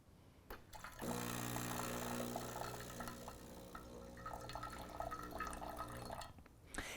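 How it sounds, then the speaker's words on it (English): Hot water runs from the spout of a Gaggia Anima bean-to-cup coffee machine, a quiet steady trickle over a faint pump hum that starts after a second and stops just before the end. "And that's how you would dispense hot water."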